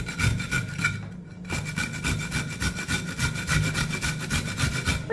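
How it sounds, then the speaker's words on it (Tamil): Peeled carrots are rubbed against a grater in a steady back-and-forth rasping rhythm, close and fairly loud, with a brief pause before the strokes resume. "இப்போ கேரட்டை வந்துப்பா தோல்லாம் நல்லா சீவியாச்சு இதை வந்து துருவிக்கிடுவோம்"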